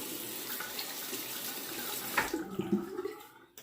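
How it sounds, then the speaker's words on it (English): Tap water runs steadily into a bathroom sink to wet a Gillette Red Tip safety razor before shaving, then a few clinks and splashes as the flow stops near the end. "Let me wet my razor."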